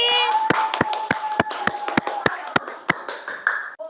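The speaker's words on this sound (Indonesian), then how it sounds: "Tepuk tangan dulu untuk si Piji." Classroom clapping for a student in an Indonesian lesson, a rhythmic series of about a dozen sharp, evenly spaced claps from a small group, close and distinct, with a faint tone beneath.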